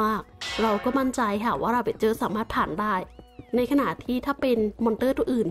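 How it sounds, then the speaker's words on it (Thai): A cat meows in Minecraft Java 1.14.4 while someone talks over it almost continuously; the meowing is brief and partly buried under her voice. "ทำไมถึงได้ยินเสียงแมวร้องแมวเกิดค่ะ"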